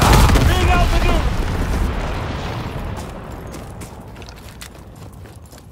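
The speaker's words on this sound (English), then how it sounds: "Enemy bomber! Incendiary bombs incoming!" Incendiary bomb explosions in the Call of Duty WW2 multiplayer game: a loud, deep rumbling blast at the start that slowly fades into a long crackling, burning tail, with voices under the noise early on.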